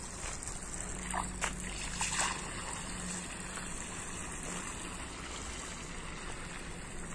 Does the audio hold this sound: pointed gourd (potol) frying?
no